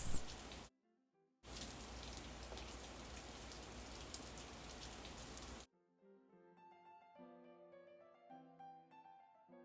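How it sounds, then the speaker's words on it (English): Steady hiss of heavy rain pours for several seconds, briefly cut off near the start, then gives way to a gentle melodic tune. "I'll wait until the rain stops."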